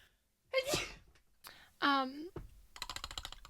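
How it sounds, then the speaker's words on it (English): A person sneezes loudly and close with a sharp intake beforehand, followed by a burst of rapid keyboard typing. "Gotta sneeze."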